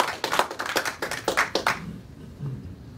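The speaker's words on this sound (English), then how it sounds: "So round of applause." A short burst of applause at a community talk event, several hands clapping in quick uneven rhythm close by for about two seconds before it stops abruptly and the room falls quiet.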